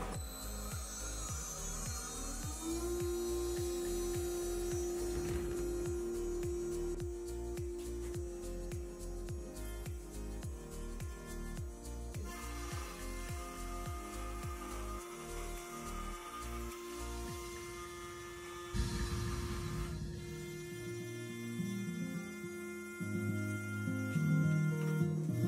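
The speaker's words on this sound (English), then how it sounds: "First cut on the Workbee CNC machine." A Workbee CNC router spindle spins up with a sustained whine during its first cut, accompanied by rhythmic stepping of the machine's motors and shifting mechanical tones as it moves.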